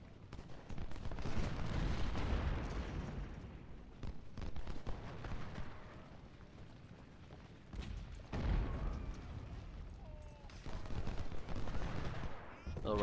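Artillery and musket fire in a Civil War strategy game battle at Philippi, a rolling sequence of deep booms and crackling volleys rising and fading over several seconds, with someone talking over the din.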